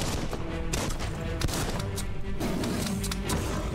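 Gunfire in the video game Biomutant comes as rapid bursts of shots under a busy soundtrack of game effects, steady and fairly dense throughout.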